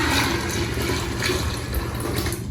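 Water pours steadily into a pot or pitcher for a moringa drink, roughly four cups' worth, as a continuous close splashing rush that fills the whole moment without any talking.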